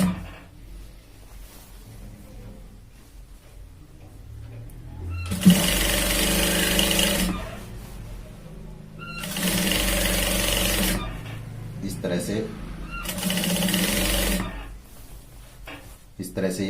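A sewing machine stitching a shirt sleeve at the shoulder seam runs in three loud bursts of a couple of seconds each, separated by short pauses, with a person talking quietly in the gaps.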